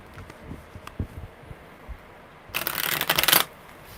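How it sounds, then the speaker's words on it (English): Tarot cards get a brisk riffle shuffle: soft handling taps, then a dense, loud burst of crisp card flutter that lasts about a second before it stops. "one more good shuffle"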